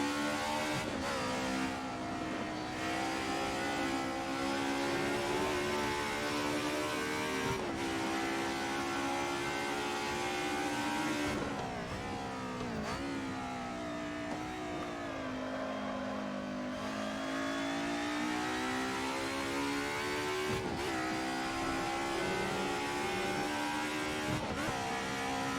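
A race car engine held at full throttle in a racing video game, a steady loud drone with rising pitch through the gears and brief shift dips, running alone without talk.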